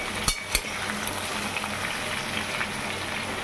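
Vegetable curry cooking in a pan, a steady close sizzle with a couple of sharp utensil clanks against the pan early on.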